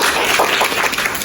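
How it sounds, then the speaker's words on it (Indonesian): Clapping from a classroom audience is a brief, dense patter of many hands, loud and close, lasting just over a second. "Oke, kita beri tepuk tangan kepada"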